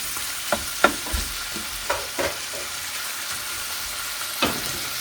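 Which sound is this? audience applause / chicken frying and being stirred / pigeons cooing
chicken frying and being stirred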